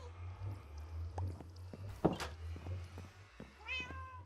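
A Siamese cat in the video game Minecraft gives a single short, faint meow near the end, after a soft thunk, over low game ambience.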